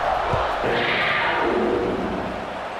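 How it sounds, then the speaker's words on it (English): A stadium crowd buzzes after a touchdown in the College Football 26 video game during a Kentucky Wildcats dynasty, a loud, steady wash of cheering and murmur filling the whole stretch with a dull thump early on. "this crowd is buzzing after that last score"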